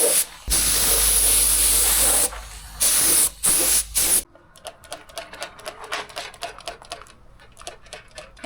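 Rust converter sprayed from a can onto Land Rover Series parts in loud hissing bursts for about four seconds, then a rapid run of light clicks and taps.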